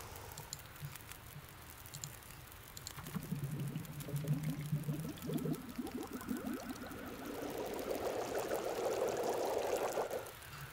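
Soft bubbling and sizzling builds steadily, like water warming over a crackling fire in the video game The Long Dark, growing fuller and louder toward the end with no voices.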